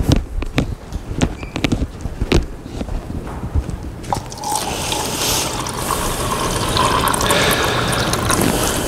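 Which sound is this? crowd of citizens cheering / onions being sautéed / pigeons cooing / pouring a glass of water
pouring a glass of water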